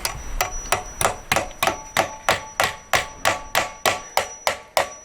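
Hammer blows drive nails into timber during a conservatory-to-extension build, about a dozen sharp, evenly spaced strikes ringing out loud and close in a steady rhythm, with no talking.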